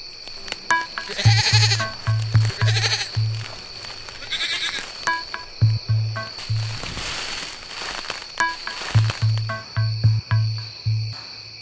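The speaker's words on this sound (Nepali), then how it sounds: "बाख्राको पाठा जङ्गलतिर पसेको कारणले गर्दा" A young goat kid bleats again and again in short nasal bursts, loud and close, with brief pauses between clusters and no talking.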